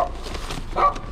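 Dogs bark briefly, a few close, short yelps within about a second, with no talking over them.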